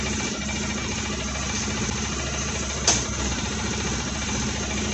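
A 2008 Polaris Ranger XP 700 UTV engine runs at a steady idle, a loud, close, continuous mechanical chatter with one brief sharper knock partway through.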